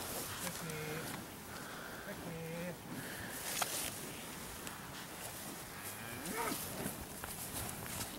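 Cattle on a farm, mostly black baldy steers with a few Charolais, red and Hereford calves, low repeatedly at mid distance, several moos spread across the clip over a steady outdoor background.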